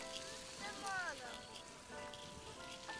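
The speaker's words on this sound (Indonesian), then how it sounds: "Berteduh, hujan deras." Heavy rain pouring during an outdoor picnic, a steady wash of drops on surfaces with voices talking over it throughout.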